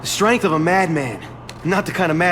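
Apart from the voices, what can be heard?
No everyday noises stand out.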